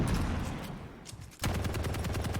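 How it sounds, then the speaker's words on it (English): Rapid weapon fire in an arena shooter video game rattles continuously and loudly, dips briefly, then resumes as a dense burst of sharp repeated shots with no voices. "that rocket almost hits"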